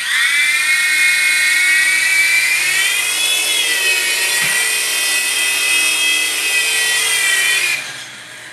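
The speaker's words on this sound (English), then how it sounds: "Not a bad little helicopter. Pretty decent at flying." A small Griffin Helo TC app-controlled toy helicopter hovers nearby with a loud, steady high-pitched rotor whine that wavers slightly in pitch, then drops away abruptly near the end.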